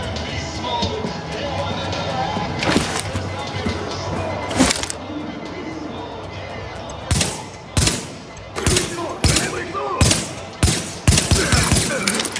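Rapid bursts of automatic gunfire in Tom Clancy's The Division ring out close and loud, several sharp volleys cracking in quick succession over a steady din of game noise, with someone talking underneath.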